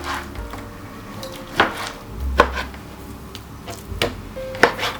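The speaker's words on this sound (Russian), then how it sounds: "Нарезаем на небольшие кусочки," Beef being cut into small chunks of about 50 grams on a board for an Uzbek dimlyama stew, several sharp, irregular knife thuds landing close and clear.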